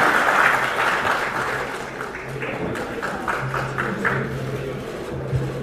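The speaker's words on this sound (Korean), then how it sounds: "박수 부탁드립니다." Audience applause at a Korean panel discussion, greeting a retired general introduced as moderator for the second session. Steady, moderate clapping from a crowd fills the hall, fairly even throughout with a low hum beneath and faint voices.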